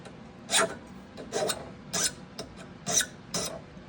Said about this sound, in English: Let's file the ends first a little bit so we don't have these rough edges on here before I start trying to bend it